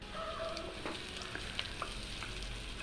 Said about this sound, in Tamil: அது கூடவே நீல வாக்கில் வெட்டின வெங்காயம் அதையும் சேர்த்து நல்லா வதக்கணும்